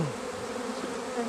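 Honeybees buzzing at an overwintered hive requeened in January, a close, steady hum with no voices over it.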